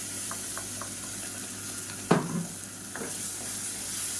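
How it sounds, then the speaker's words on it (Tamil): Blended tomato puree sautéing in oil in a pan gives a steady close sizzle, with a few soft stirring scrapes and one sharper clatter near the middle. "இப்போ தக்காளி நல்லா வதங்கிட்டு இருக்கு"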